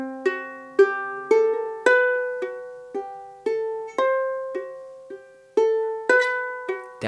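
A ukulele picks out the opening section of a haunting Campanella etude, clear plucked notes ringing one after another in a steady, unhurried rhythm, close and alone without any voice.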